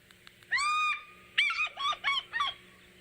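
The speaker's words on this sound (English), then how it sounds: "a very common bird in the African continent, and the call is indicative of Africa" A common African bird with a territorial call, played back as a recording: one long, loud, honking call followed by a series of shorter, rapid harsh notes, clear and close.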